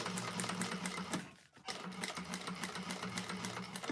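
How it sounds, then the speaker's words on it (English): Industrial sewing machine basting the sides of a bag exterior, a close, steady rapid stitching rhythm with a short pause midway before it resumes. "I'm just basting with 1/8 inch seam allowance."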